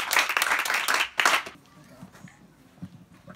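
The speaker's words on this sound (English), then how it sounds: "let's clap for her" Children clapping for a classmate at a children's design event in Suhum, Ghana: a short burst of close hand claps lasting about a second and a half, then fading into quiet room noise.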